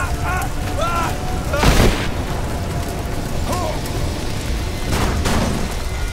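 Rise of the Tomb Raider video game gunfire: bursts of shots, with one loud blast near the middle and another later, heard behind game voices and radio chatter.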